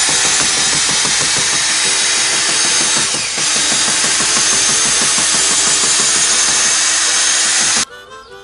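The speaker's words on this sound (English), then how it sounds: "I am stirring up the roofing material to bring it to a good," Mobile home roof coating is stirred with a power tool, a loud whirring motor with a rapid churning rhythm that runs steadily and stops abruptly near the end.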